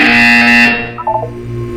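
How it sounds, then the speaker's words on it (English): A loud, harsh electronic buzzer in the video game Portal 2 blares for under a second, then cuts off, followed by a few brief tonal blips. "You will hear a buzzer."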